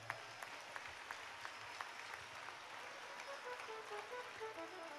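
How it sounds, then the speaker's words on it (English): A church congregation claps for Jesus Christ, a faint, distant ripple of hands with a few sharper individual claps standing out, and what seem to be soft tonal sounds toward the end. "Please clap your hands for Jesus Christ."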